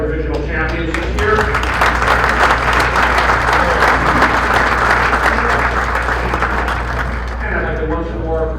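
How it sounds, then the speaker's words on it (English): Sustained applause for divisional champions at an awards presentation, many hands clapping in a dense, loud roar that swells and then eases toward the end, with a low hum underneath and some voices in the mix. "We have another round of applause for all of our divisional champions this year."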